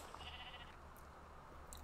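Sheep in Minecraft bleat once in a wavering, nasal cry, fairly faint against a steady low game background hum, with a couple of short chirps near the end.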